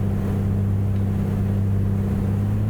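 Aircraft engine drones steadily at reduced power in flight, a smooth, continuous, loud hum with a strong low tone and wind rush, no voices.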